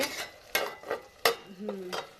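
Salted green chillies fry in a pan as a spoon scrapes and stirs in a few sharp strokes over a faint sizzle, with a brief hum of a voice partway through.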